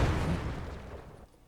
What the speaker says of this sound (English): You can listen this explosion sound.